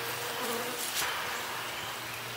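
Steady, close buzzing of many honeybees at an open hive box, a dense droning hum with no voices.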